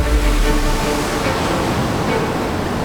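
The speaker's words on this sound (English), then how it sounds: "and the first powerful waves." Powerful ocean waves breaking on the shore, a dense continuous roar of surf that stays loud and steady throughout with no voices.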